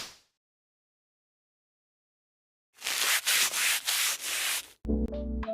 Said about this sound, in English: I'm starting by sanding down the Squishy so that the paint will stick to it.